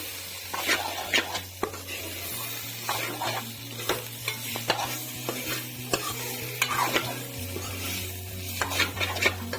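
Broiler chicken pieces with spices are stir-fried in a pan, a steady sizzle broken by frequent sharp scrapes and clanks of a ladle against metal, close and moderately loud with no talk.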